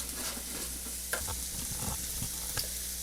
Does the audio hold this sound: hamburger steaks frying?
yes